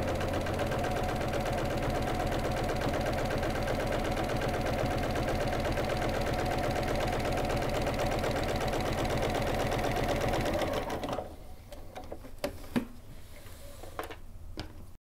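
Sewing machine running steadily while cross hatch quilting along a guide bar, a continuous even mechanical hum for about eleven seconds, then stopping and leaving faint handling clicks and taps.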